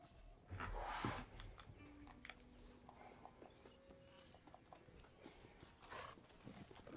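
A horse in the Red Dead Redemption video game clip-clops along in a steady hoof rhythm, fairly quiet and close, with a brief louder rustle early on and no talking.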